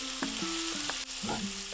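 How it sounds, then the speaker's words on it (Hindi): Mixed vegetables stir-fry in a pan for veg fried rice: a steady sizzle with brief scraping stirs and a sharp clack, under soft background music. "करीब आधा मिनट भूनेंगे।"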